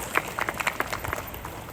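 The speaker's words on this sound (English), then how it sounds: "Big round of applause." Indian community audience in Queensland gives a round of applause, with scattered clapping over a continuous crowd murmur, moderately loud and brief.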